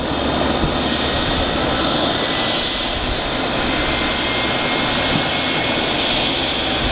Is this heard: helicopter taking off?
yes